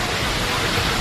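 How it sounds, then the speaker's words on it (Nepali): Jhorr Jharna waterfall makes a dense, steady rushing roar, loud and close, with no break. "झरनामा पानी पनि रहेछ मजाले"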